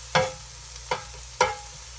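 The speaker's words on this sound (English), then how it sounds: "Go ahead and give him a little toss in the butter." Chorizo tossed and browning in butter in a pan: three sharp scrape-and-clatter strokes over a steady low sizzle, close and fairly clear, with no voices.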